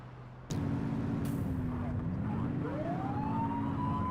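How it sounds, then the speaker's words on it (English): A police car siren in the video game The Precinct cuts in abruptly over a steady engine drone, its wail rising and sweeping upward, loud and close. "Turn that siren off."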